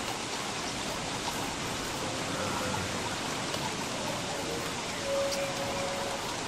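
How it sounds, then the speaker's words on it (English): Steady rain in the video game Don't Starve, a continuous broadband hiss of falling water that holds at an even level throughout, with a faint tonal note near the end. "Cold, wet, rainy day."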